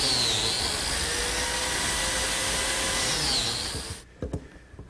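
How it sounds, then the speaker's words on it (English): A biscuit joiner whines loudly and steadily as it cuts slots in plywood and oak, then cuts off abruptly near the end, leaving a few quiet knocks. "Now some slots for biscuits, both in the plywood and in the oak."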